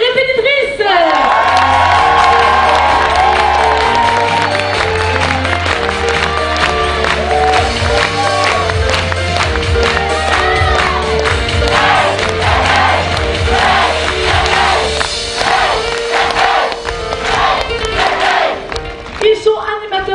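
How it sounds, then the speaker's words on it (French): Audience at the "AIRAM" show in Millau, December 2012, loud crowd cheering and shouting with some clapping over music, sustained throughout. "On peut les applaudir bien fort, toute l'équipe des répétitrices."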